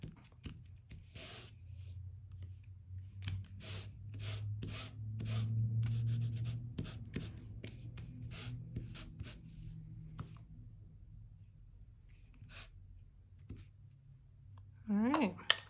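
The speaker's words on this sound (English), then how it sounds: "I'm just going to rub this over the surface of the paper here" A crafting tool rubs back and forth across embossed die-cut paper, giving soft, close scratchy strokes in an irregular rhythm, with light clicks and a brief voice at the end.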